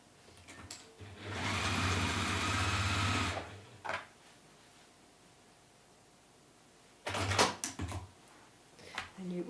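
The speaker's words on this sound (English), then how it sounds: "So I'm going to fold those darts and stitch along there." A sewing machine stitches interfacing darts on a modern handled bag, one loud, close run of steady motor hum and rapid needle clatter lasting about two seconds, then a quiet gap, a click, and shorter clattery bursts later.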